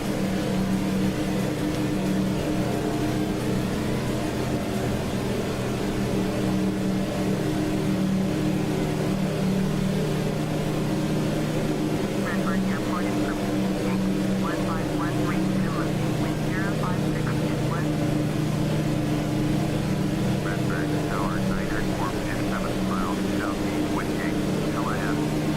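Steady drone of an aircraft engine on a long final approach in the Air Hauler 2 flight simulator game, a constant mid-level hum with someone talking over it throughout.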